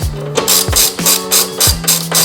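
Rapid ratchet clicks in repeated bursts of swings while nuts are tightened on a lowered Toyota Camry's suspension, close and loud with no voices.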